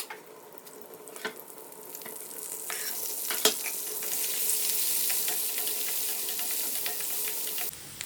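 Onions sizzle in hot oil with a bright, continuous crackle that builds gradually. A spoon clacks against the pan now and then, with one sharp knock midway. The sound is close, and no voice is heard.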